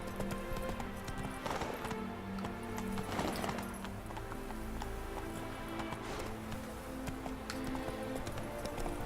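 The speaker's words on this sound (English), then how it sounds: "I'm riding a horse" Hooves of Roach, a horse in The Witcher 3 video game, clop in a rapid steady galloping rhythm, game music and ambience running underneath, with a whinny partway through.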